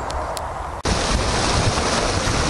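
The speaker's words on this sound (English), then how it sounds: "This is the River Chelmer. I'm on a little bridge at the minute." The River Chelmer rushing beneath a small bridge, a loud, continuous broadband wash of flowing water that starts abruptly and stays steady, with some wind buffeting the microphone.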